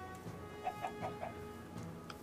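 Chickens in the video game Minecraft give a short run of quiet, soft clucks set against faint background ambience.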